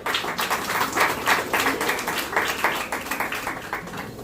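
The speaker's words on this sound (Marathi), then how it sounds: "त्याच्याकडे जोरदार टाळ्या पाहिजे" An audience at a notebook distribution event held at Shelar claps together in a steady, moderately loud round of applause that carries on through the whole stretch, rippling evenly with no voices on top.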